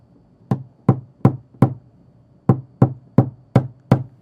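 Nine sharp knocks of a tool tapping down a dent in the door of a white Ram truck, in an uneven rhythm with a pause partway through, close and fairly loud with no talking.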